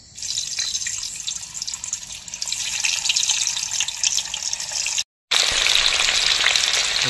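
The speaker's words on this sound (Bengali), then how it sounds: "তেলটা আমার গরম হয়ে গিয়েছে, এবার আমি পনিরগুলো ভেজে নিচ্ছি।" Paneer frying in hot oil for a vegetarian biryani, a steady, loud, close sizzle with crackling bubbles that runs throughout, broken by a brief cut near the end.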